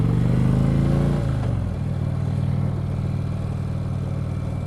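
Steady engine rumble from an Indian Chieftain motorcycle being ridden, a low drone that drops slightly in pitch early on and then holds at an even loud level.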